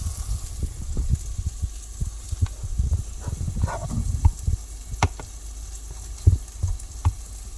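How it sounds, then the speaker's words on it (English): Garlic and ginger hitting hot oil in a pav bhaji pot, giving a steady close frying sizzle with scattered crackles, pops and stirring scrapes, loudest around the middle and end; no talking. "gonna add my garlic and ginger in"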